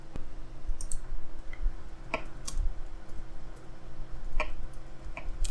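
Code being typed on a computer keyboard, a close run of irregular key clicks and taps with occasional louder strokes, steady and without talk.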